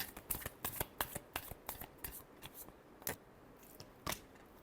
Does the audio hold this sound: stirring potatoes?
no